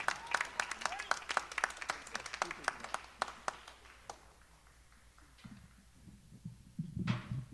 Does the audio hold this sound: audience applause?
yes